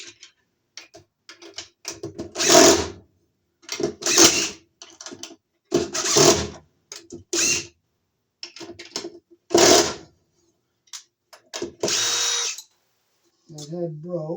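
A power drill drives screws to fasten a 4-inch square electrical box to a wall, sounding in about eight short, loud whirring bursts with brief pauses, and someone talks between them.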